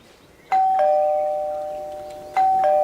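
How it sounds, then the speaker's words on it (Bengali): A doorbell chimes twice in a quiet room, each ring a clear two-tone electronic ding-dong with a lingering ringing decay, used as a sound effect in a Bengali crime audio story. "কলিং বেল প্রায় বার পাঁচেক বাজানোর পর"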